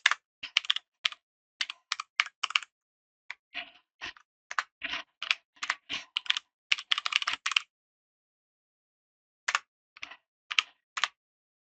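Keys clacking on a computer keyboard as SystemVerilog code is written, in short irregular bursts of crisp taps separated by pauses, close and clear with no talking.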